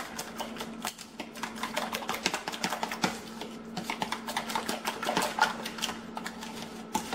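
Seasoning such as chili and onion powder is stirred into eggs for meatloaf, with a rapid run of light clicking taps from a utensil against the bowl, close and fairly quiet.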